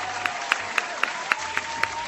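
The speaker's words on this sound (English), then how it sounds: "Can we give him some claps?" Studio audience on an Indian talk show applauds with steady, evenly spaced claps at moderate volume, sounding a little distant, with no voices over it.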